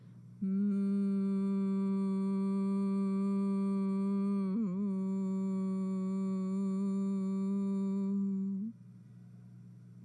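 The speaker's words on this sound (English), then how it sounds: "breathe out with a humming sound" A long, steady humming exhale during a yoga breathing exercise at an International Yoga Day event in New York, one sustained tone lasting about eight seconds, loud and close, with a slight wobble midway.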